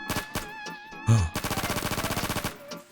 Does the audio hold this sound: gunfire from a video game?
yes